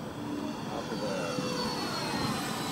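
A Freewing MiG-21 model jet makes a low pass, a steady, fairly loud whine and roar of its engine holding throughout without a break, with no talking over it.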